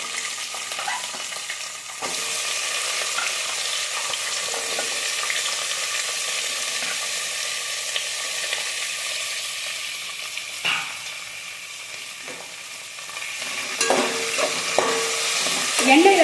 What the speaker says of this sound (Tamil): எண்ணெயில நல்லா ஃப்ரை பண்ணிக்கோங்க